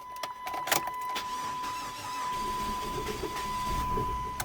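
A car engine cranking with the clutch pressed, a steady whirring starter drone under a constant high electrical whine, with several sharp knocks near the start.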